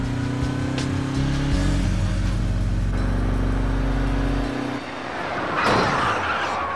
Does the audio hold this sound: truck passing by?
yes